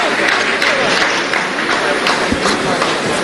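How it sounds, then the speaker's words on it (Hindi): Scientists in the Chandrayaan-3 mission control room break into a dense, continuous roar of applause once the lunar descent phase completes, with voices mixed into the sustained clapping. "आप इस तालियों के गड़गड़ाहट को सुन सकते हैं"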